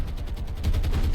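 Naval guns firing in War on the Sea as the cruiser Boise shoots at the Japanese cruiser Takao, a dense rumble of low booms and crackling blasts that swells louder midway through and keeps rolling.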